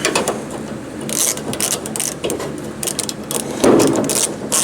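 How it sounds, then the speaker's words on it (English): A ratchet tightens bolts on car seat mounts while installing 2014 Camaro seats in a 1970 El Camino, giving a steady run of close clicking and pawl rattling with a few brief metallic knocks. "But for now, let's get this bolted in here."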